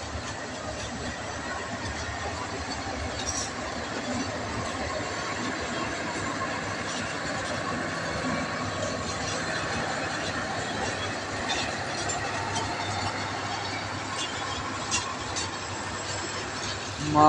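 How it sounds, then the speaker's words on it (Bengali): A long train rolls past a station platform, a steady broad rumble with faint wheel squeals holding at an even level the whole time, with no voices. "ট্রেনটা অনেক লম্বা"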